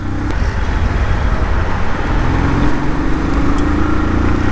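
Steady, loud road noise of highway traffic from aboard a moving Bajaj CT110X motorcycle, with continuous engine and wind rumble and a low drone throughout, no talk.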